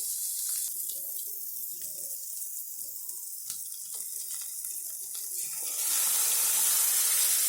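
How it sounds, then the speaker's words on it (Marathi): Soaked masoor dal poured into a pan of hot tempering paste: quiet kitchen clatter at first, then a loud, steady rushing sizzle that swells in the final seconds. "मी डाळ ओतते."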